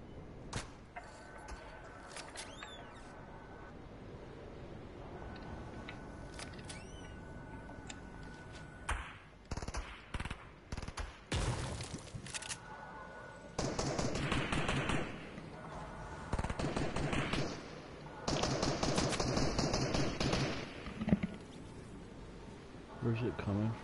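Gunfire in the video game Fortnite comes in irregular bursts of rapid shots with buzzing, crackling bullet sounds, some close and loud, others quieter, with people talking in between.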